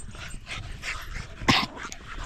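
Small dogs in a group growling and yipping as they run and play, several short bursts over steady outdoor noise, with one louder close yap near the middle.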